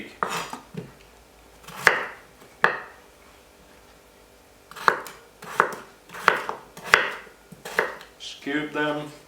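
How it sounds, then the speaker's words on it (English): A knife chops potatoes into cubes on a cutting board for a pork and beef mince curry, with about a dozen sharp, close knocks in irregular bursts, ending in a brief rattle of pieces, no talking. "So I like to cut them in half and then cut them in quarters and cube them"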